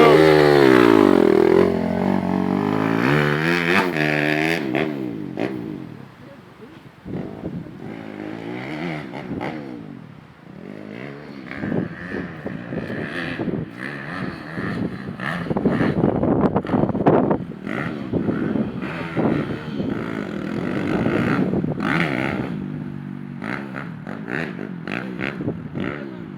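A 190cc dirt bike engine running at a BMX track, revving and rising and falling in pitch as it pulls away and returns, loud up close then fading, with wind buffeting.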